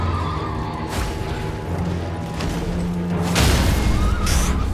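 A horse neighs amid loud, dense Elden Ring combat sound effects during a mounted boss duel on a bridge, with heavy booming and a sudden crashing surge near the end.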